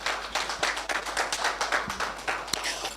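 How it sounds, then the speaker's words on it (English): An audience on a morning television show claps to welcome the managing director of Republic Bank. The claps are scattered and uneven, with a patchy mix of individual hand claps rather than a full ovation, and they stay at moderate loudness. "Please, let's be kind to him with the applause."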